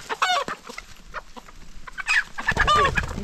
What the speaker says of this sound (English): The rooster is hungry.